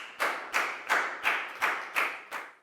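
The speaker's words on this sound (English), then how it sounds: "a big round of applause for Lakgao" A class of students claps in unison for a classmate in a math lesson, about seven slow, evenly spaced collective claps, each a sharp hit with a short decaying tail.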